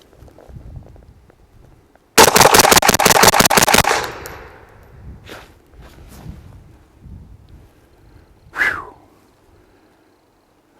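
A Taurus CT9G2 9mm fires a rapid string of about ten 135 grain jacketed hollow point rounds, loud and close. Quieter handling noises and one sharp sound follow afterward.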